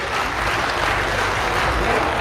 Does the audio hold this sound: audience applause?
yes